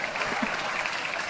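Audience applause at a French stand-up comedy show, a steady dense patter of clapping throughout, moderately loud with faint voices mixed underneath.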